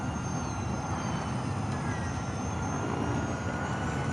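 A Formula E race car at the Mexico City E-Prix practice session, heard as a steady, dense electric drivetrain whine that holds continuously with trackside rumble and no speech.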